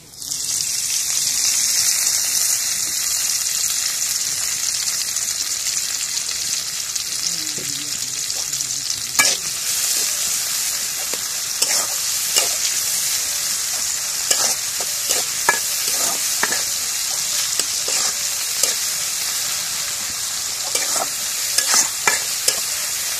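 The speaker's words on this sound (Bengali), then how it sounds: "এখন মরিচ পেঁয়াজ ভাজা আছে, এখন শাকগুলো দিয়ে দিই।" Chili and onion frying in hot oil in a home kitchen, a loud continuous sizzle with sharp crackles and occasional stirring scrapes, with no talking.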